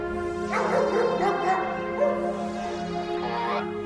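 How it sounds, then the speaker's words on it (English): A police dog barks and yelps excitedly in quick bursts while searching for a scent around a car, over a steady engine-like hum, fairly close. "While the dog tries to pick up a scent"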